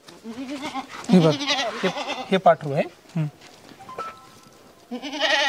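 Goats bleat loudly nearby with wavering calls, one near the start and another near the end, while people talk in between.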